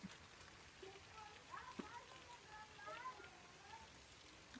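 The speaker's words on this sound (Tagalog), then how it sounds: "Lakas ng ulan." Steady rain hissing down onto surfaces, with scattered drips and faint voices in the background.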